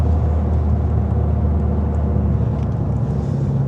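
A Ford Focus ST engine drones loud and close for a few seconds, a continuous steady rumble with only slight swells, consistent with revving through quick gear shifts but without distinct shift breaks.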